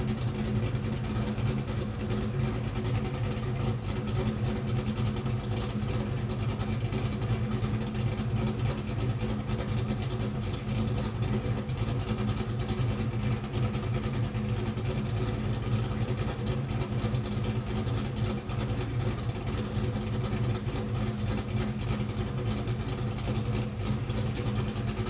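A Ford Mustang Foxbody engine runs steadily on a dyno during tuning, a constant low, droning hum held near one speed for the whole stretch with no pauses, and no talk over it.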